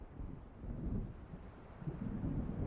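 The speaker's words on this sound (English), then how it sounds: "It seems there's a storm coming." Low, rumbling thunder from an approaching storm by a lake in Alan Wake Remastered rolls in softly and distantly, a faint continuous growl with wind noise and no talk.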